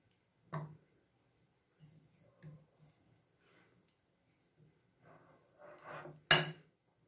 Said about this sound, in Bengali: ভালোভাবে একটু মিশিয়ে নিতে হবে